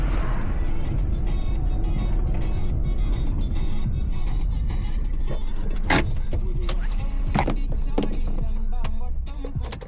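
A vehicle engine idles steadily on a rainy hill road at Thalaikundha near Ooty, a continuous low rumble with scattered clicks and knocks, fading slightly in the last moment as it is switched off.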